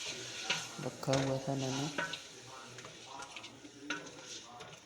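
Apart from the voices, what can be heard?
beef and stock added to a pot, stirred and sizzling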